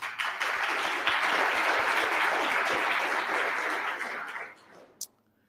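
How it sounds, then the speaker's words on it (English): A crowd applauds steadily and loudly for about four seconds, then the clapping thins out and fades to near silence. "Let's give all of those supporting today's event another round of applause"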